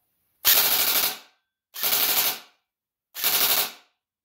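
A Matrix S&T Sportsline M4 RIS airsoft rifle fires three loud full-auto bursts indoors, each roughly half a second to a second long, separated by short silences.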